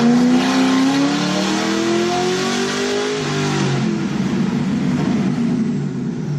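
A stock Ford Crown Victoria engine revs steadily on a dyno, pitch climbing through a long loud pull for about three seconds before dropping into a rougher, lower drone that holds to the end, with no voices.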